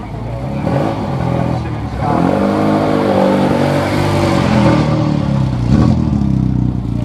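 Classic red and white Mini Cooper-style race car on the Thruxton circuit with the Mini 7 Racing Club, engine droning and revving steadily and loudly throughout, with a voice talking over it.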